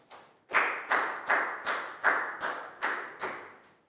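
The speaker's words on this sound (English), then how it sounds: "Big round of applause for Prel" A small class of schoolchildren claps for a student during an English lesson, eight or nine sharp, evenly spaced bursts of clapping in unison, close and clear with nothing else under them.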